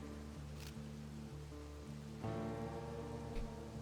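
Steady rain pours down in a wide, even hiss that fills the clip from start to finish, with no clear thunder standing out and no one talking over it.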